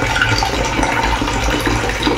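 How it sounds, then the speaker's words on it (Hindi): Water gushes steadily from the tap of an Iris 3 litre instant electric water heater, a loud, continuous splashing pour close by with no talking. "तो अभी तो ठंडा पानी गिरेगा और उसके बाद हॉट वाटर गिरेगा"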